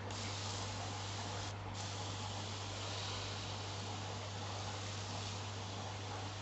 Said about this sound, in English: And we can just give him a spray.